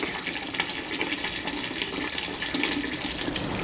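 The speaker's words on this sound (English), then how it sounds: "Sparge water into the hot liquor tank." Sparge water for a home brew day pours steadily into a hot liquor tank, a continuous broadband splashing gush with no talking, even in level throughout.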